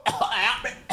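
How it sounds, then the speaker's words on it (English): A few short, harsh coughs in quick succession, close and loud, with brief pauses between bursts. "I was coughing like crazy"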